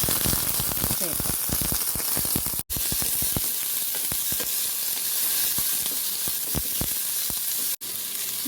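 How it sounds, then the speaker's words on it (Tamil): Onion, curry leaves and green chili fry in hot oil with mustard and cumin seeds, a loud close sizzle with crackling pops and stirring, briefly cutting out twice. "கொஞ்சம் கடுகு சீரகம் பொரிஞ்சோடனே வெங்காயம், கறிவேப்பிலை, பச்சை மிளகாய் சேர்ப்போம்"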